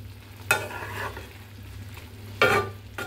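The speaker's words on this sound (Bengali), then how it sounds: "এই যে পটল আলু ভাজি, তো এটা আবার এই চুলাতে বসিয়ে দিচ্ছি" A potato and pointed gourd stir-fry sizzles steadily in a pan on the stove, with two louder stirring scrapes cutting through the constant frying hiss.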